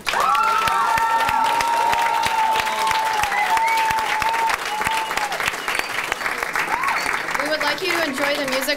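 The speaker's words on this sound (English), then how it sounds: "So let's give all of the poets a round of applause." A high school poetry slam crowd claps and cheers loudly for the poets, dense sustained applause with shouts and whoops layered over it, the clapping continuing at full strength throughout.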